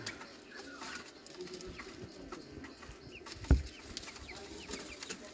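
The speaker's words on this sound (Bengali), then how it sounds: "এটা হলো আপনার মোরগ, আর ওই 3টা মুরগি।" American Brahma chickens, a rooster with three hens, cluck softly and intermittently in a pen at a small farm, faint and somewhat distant, with scattered bird calls and a brief sharp knock partway through.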